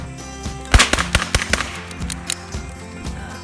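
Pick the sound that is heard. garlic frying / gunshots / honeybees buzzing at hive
gunshots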